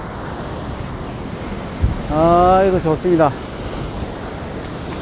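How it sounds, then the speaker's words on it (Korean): Loud surf crashing on the rocky shore of Gapado island, a steady roaring wash with wind buffeting the microphone, while someone speaks briefly over it. "가파도에는 이렇게 파도가 엄청나게 요란하게 칩니다."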